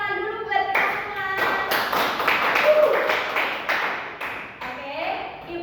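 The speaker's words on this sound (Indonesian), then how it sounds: "Kita tepuk tangan dulu buat kita semua." Schoolchildren in an elementary classroom clap their hands together in a brisk, uneven burst lasting several seconds, with a teacher's voice leading at the start and kids' chatter mixed through the clapping.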